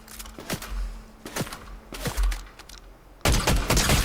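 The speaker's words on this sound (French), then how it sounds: "Ça tire sur moi, ça me tire dessus." Gunfire in the video game Fortnite, several sharp separate shots spaced across the clip, followed by a louder dense burst of shooting at the end.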